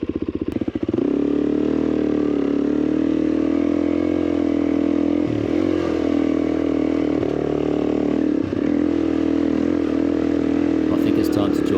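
A Suzuki DRZ400 motorcycle climbing the Mount Terrible track, its engine holding a loud, steady drone close by with brief dips as the throttle eases, while wind noise buffets throughout.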